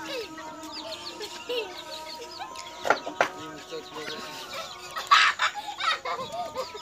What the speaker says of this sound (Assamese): আপোনালোকক মুৰ্গী দেখুৱাই আছোঁ মই তাই মুৰ্গীবিলাক এতিয়া গধূলি হোৱাৰ কাৰণে আহিছে